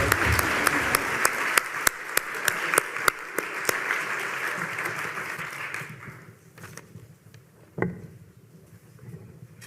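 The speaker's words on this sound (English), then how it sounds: "let's give another round of applause for Jason and Tiffany" Audience at a regional revitalization summit applauds loudly with dense, sustained clapping for about six seconds, then thins to a few scattered claps and a brief burst near the end before fading.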